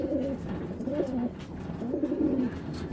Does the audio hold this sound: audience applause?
no